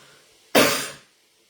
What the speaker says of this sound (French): Vous pouvez tousser si vous voulez pour forcer l'expiration de l'air.